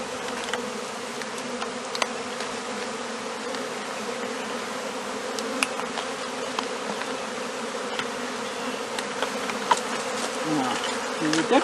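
A dense swarm of honey bees buzzes steadily and continuously, close by, with faint clicks and bumps scattered through the drone.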